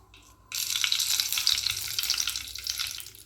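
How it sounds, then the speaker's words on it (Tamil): Mustard seeds, urad dal and fenugreek seeds hitting hot sesame oil, bursting into a loud, steady crackling sizzle that begins abruptly after a quiet moment and keeps popping close up with no talking. "நல்லெண்ணெய் நல்லா சூடானதுக்கப்புறம் கடுகு உளுந்தம் பருப்பு போட்டுட்டு அது கூடயே வெந்தயமும் போட்டுக்கணும்."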